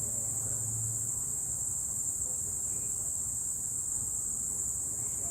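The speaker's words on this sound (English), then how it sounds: "Can you hear those crickets screeching?" Crickets keep up a steady, high, unbroken chirring at night, moderately loud and alone, with no talking over it.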